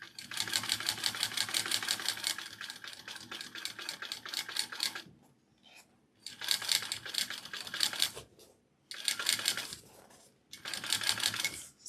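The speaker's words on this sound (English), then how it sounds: "I'm going to do my second little row of stitching right next to my first here" A sewing machine runs close by in four bursts of rapid, rattling stitching, sewing a second row alongside the first, with short quiet pauses between runs.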